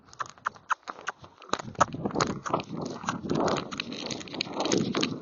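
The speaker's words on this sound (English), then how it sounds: "It's kind of a leaping canter, so up and down takes a lot of work for him to do it." A Kentucky Mountain Horse, a gaited breed, moves in a leaping canter in an arena, with a run of close hoofbeats that blur into a louder, rustling rhythm of thuds on soft footing.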